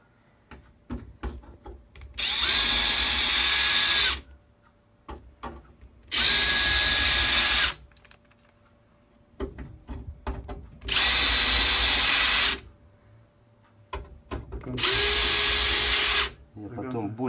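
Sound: drill countersinking holes in LG TV LED backlight strip

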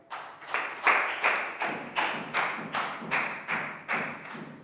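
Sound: class applauding a student

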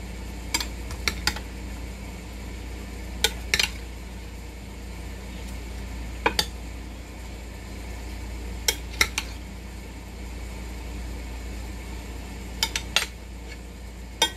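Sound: spoon stirring au gratin potato mixture with parsley flakes

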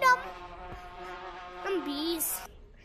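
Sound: buzzing bees in the video game Gorilla Tag

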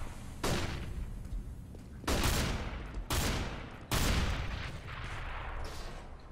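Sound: breaking vents in Counter-Strike: Global Offensive video game

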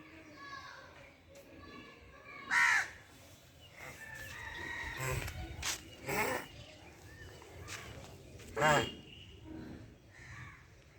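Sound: crow cawing

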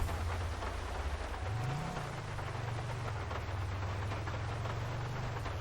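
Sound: rain in a video game

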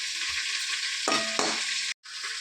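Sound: dried red chillies frying in sesame oil

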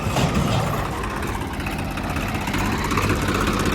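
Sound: tractor engine running

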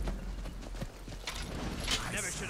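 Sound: horse hooves in the video game Skyrim

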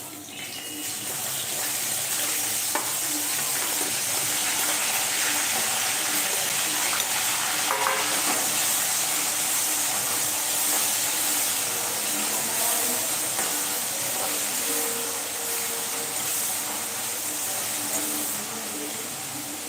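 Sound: onions frying in oil

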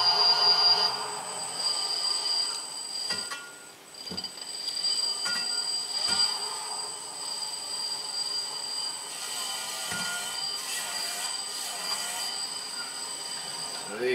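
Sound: washing machine motor of DIY electric outboard spinning at full speed

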